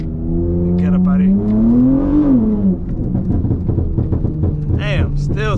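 A loud burbling V6 Dodge Charger revving while its wheels spin, heard from inside the car: a rising engine whine that peaks and falls, then a rough rumbling idle, with voices talking over it.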